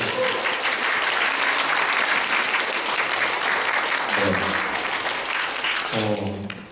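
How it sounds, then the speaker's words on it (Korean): Church congregation applauding warmly during a Sunday service at a Korean Presbyterian church, a steady, dense crowd clapping sustained throughout, with a few voices rising near the end. "박수를 한번 뜨겁게 하네요."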